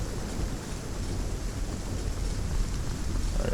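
Steady rain pouring down in the survival game Aska, a dense, even hiss with low rumbling underneath, constant throughout with no talking.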